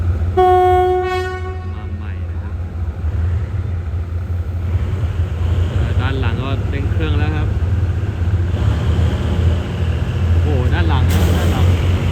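State Railway of Thailand Hitachi diesel locomotive BK 4044 passing close by: a loud horn blast opens, followed by a deep continuous engine and wheel rumble, with voices briefly heard over it midway.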